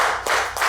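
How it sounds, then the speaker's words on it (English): An audience at a Pre-Juneteenth open mic claps in brief bursts, with a few distinct sharp hand claps standing out over a steady wash of sound close by. "Please give a round of applause for yourselves."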